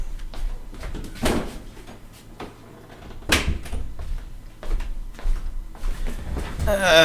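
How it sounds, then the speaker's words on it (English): A room door is closed indoors, with a couple of sharp knocks and thuds standing out above low household rustling and handling noise. "Gotta close the door."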